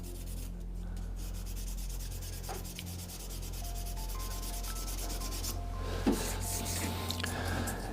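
Sanding of two African Zebrano wood pens turning on a lathe, a steady continuous rubbing hiss under a constant low motor hum, with a slight surge near the end.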